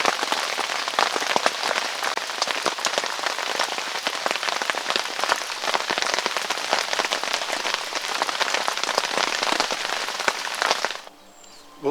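A rain shower patters densely onto the surface of a tarn, a loud, continuous hiss of close drops that stops abruptly near the end, with no voices.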